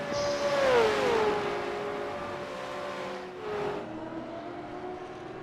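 Race cars in a simulation racing game run on a V8 touring-car circuit at Spa, with a steady engine whine sliding down in pitch, then a second car's drone rising and falling, no talk.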